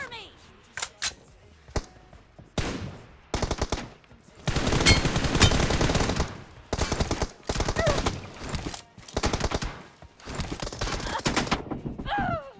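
An online shooter game crackles with loud bursts of automatic gunfire, several rapid volleys separated by short pauses, with a voice talking between the shots.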